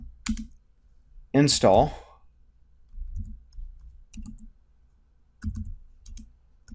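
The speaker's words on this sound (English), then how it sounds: "And we could type this command right here" Typing on a computer keyboard, heard as sparse, close key clicks in small clusters with quiet gaps between them, with a short spoken word among the keystrokes.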